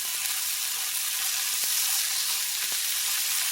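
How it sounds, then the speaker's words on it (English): Onions frying with a little sugar in a pan, caramelizing for bangers and mash, give a steady, even sizzle throughout with a few faint clicks and scrapes, heard alone without talk. "The sugar will start to caramelize and help the onions."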